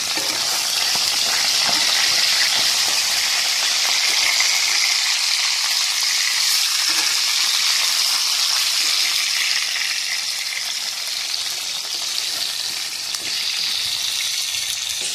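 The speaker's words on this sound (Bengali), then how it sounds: "মাছটাকে আর একটু উল্টে পাল্টে ভালো করে ভাজবো।" Fish fries in oil in a wok, giving a loud, continuous sizzling hiss that stays steady and close for the whole stretch, with no one speaking.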